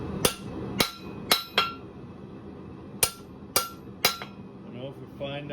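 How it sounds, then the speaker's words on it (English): A blacksmith's hammer strikes a hot metal bar in sharp, ringing blows, three in quick succession, a pause, then three more, each loud clang decaying quickly over a low shop background. "So I am dressing with my hammer, my bar,"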